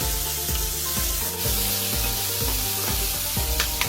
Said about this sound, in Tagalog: Igisa lang ang bacon hanggang sa mapalabas na ang mantika nito.